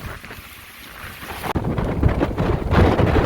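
Hurricane Sally winds on Dauphin Island, Alabama, roar loudly in gusts and buffet the microphone, building after a brief dip into a harsh, continuous rush.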